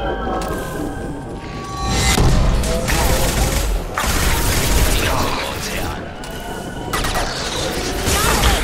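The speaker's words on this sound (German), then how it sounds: "Die Sniper ist cool, die knallt." Sniper rifle shots ring out in the video game Mass Effect 2, several loud cracks with ringing tails and mechanical reload clatter between them, closely spaced in an intense firefight.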